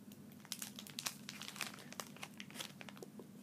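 Dairy Milk Ritz chocolate biscuit packaging crinkles and crackles up close as it is torn open, a steady run of sharp crumpling bursts with no talking.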